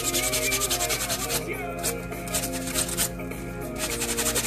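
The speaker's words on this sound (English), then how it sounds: "And of course, you gotta use Scotch-Brite pads." Scotch-Brite pad rubbed over a 3D printed Star Wars blaster replica, giving steady scratchy scrubbing strokes with a quick back-and-forth rhythm, close and fairly loud throughout, with a couple of brief pauses.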